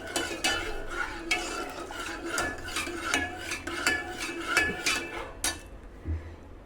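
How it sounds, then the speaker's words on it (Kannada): A spoon stirs boiling jowar porridge in a pot with a quick series of scraping, clinking strokes against the metal, sounding close and alone with no talk. "ಕೈ ಆಡಿಸ್ಬೇಕು, ಬಿಡಬಾರ್ದ್ರಿ, ಗಂಟು ಬೀಳೋ ಚಾನ್ಸಸ್ ಇರುತ್ತೆ"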